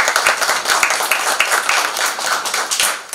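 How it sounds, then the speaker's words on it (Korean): Audience members at a small memorial gathering in Gyeongju clap together, a loud, close burst of hand claps with a steady, slightly uneven rhythm. "박수."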